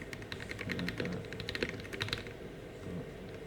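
Steady clicking keystrokes on a computer keyboard as a full name is entered into a C++ console program, a quick run of taps close up that trails off near the end.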